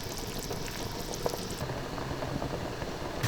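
Sichuan braising liquid for ostrich wings bubbles in a covered pot, a dense steady simmer with scattered pops and a lid clink near the end.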